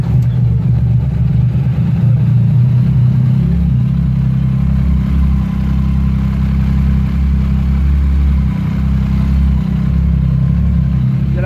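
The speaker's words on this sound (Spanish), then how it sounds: "la moto suena bien parejita, suena bueno el motor, suena el motor como tranquilo" A Yamaha Tracer 900 motorcycle engine idles steadily up close after ignition coil repair, a low, even rumble with a smooth, regular pulse and no revving.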